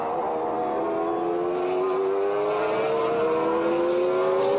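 GT race cars from the 1995 BPR Global GT Series, among them Ferraris and McLarens, race at Silverstone. A loud, close engine note climbs steadily in pitch as a car accelerates, with other engines droning underneath.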